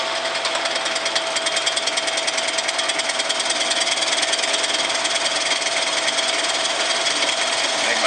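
Continuous loud mechanical drilling with a harsh, buzzing whine, steady and unbroken throughout, a power drill with a dulling bit biting into metal close by.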